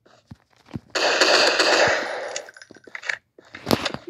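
Rapid pistol gunfire in a mobile shooter video game, a sustained burst of shots around the first two seconds followed by scattered single cracks and a final louder volley, with no talking.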